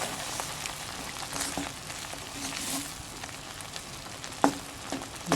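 Squid ink pasta sauce cooking in a pan, a soft steady sizzle and bubbling with occasional stirring knocks, close and fairly quiet with no talk.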